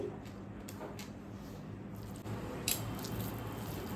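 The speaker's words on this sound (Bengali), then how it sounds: "এইভাবে মাখিয়ে নিচ্ছি একদম ছানাটাকে" Chhena (milk curd) kneaded by hand for kalojam sweets: soft, close squishing and pressing sounds, quiet and continuous, with faint wet smacks and no talking.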